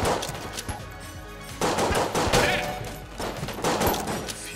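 Rapid bursts of gunfire in the video game Enter the Gungeon, played as the Convict, come in several loud clusters of quick shots with brief gaps between them.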